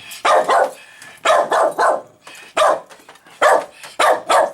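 Small dogs playing in a rescue shelter playroom give bursts of close, sharp barks in quick pairs and clusters, separated by short pauses.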